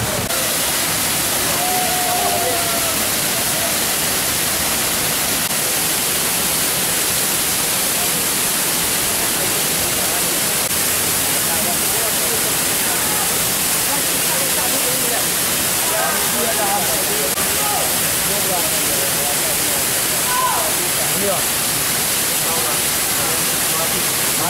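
Trumon waterfall roars as a dense, constant wash of rushing water that fills the whole stretch at high level, with faint voices and scattered sounds barely surfacing beneath it.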